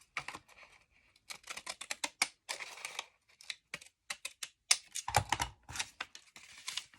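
Paper torn from a book page is cut for a handmade envelope, heard as a close, quick series of crisp snips and crackles with uneven short pauses.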